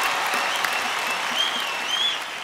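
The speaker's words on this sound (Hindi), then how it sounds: "big round of applause for Delhi police" A TV studio audience claps steadily, dense applause filling the space, with a few faint whistles rising over it before it tapers slightly.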